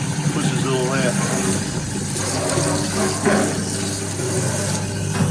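An InSinkErator garbage disposal grinds food waste with running water, a steady loud mechanical whir and watery churn under a voice throughout.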